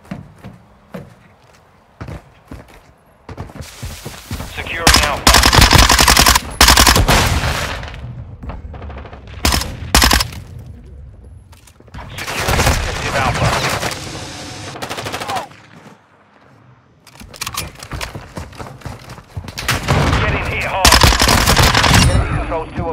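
Gunfire rattles through a Call of Duty Modern Warfare 2 firefight, with loud bursts of automatic weapon fire, single shots and booms in dense clusters separated by brief lulls, with in-game soldier voices calling out.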